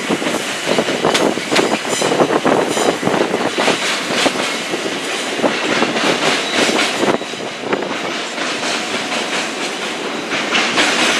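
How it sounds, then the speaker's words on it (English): A Clapham Junction bound train rolls past at close range near Willesden Junction, a loud continuous rush of wheels with rhythmic clickety-clack of carriages over rail joints, running the whole length with no talk. "Another Clapham Junction bound train passing us."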